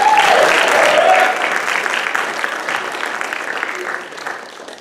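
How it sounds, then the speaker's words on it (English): Audience applause at a stand-up comedy show, a dense wash of clapping that starts loud and gradually thins and fades over a few seconds. "let's give a big round of applause for the Talent Factory for hosting us,"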